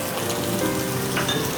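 Chopped garlic and ginger sizzling in hot oil in a pan, a steady close crackling hiss with no one talking.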